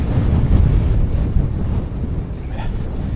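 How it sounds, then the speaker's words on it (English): Strong wind buffets the microphone with low rumbling gusts, loud and constant, easing slightly toward the end. "I think we've shown enough wind, and I have no desire to be battered by this wind anymore."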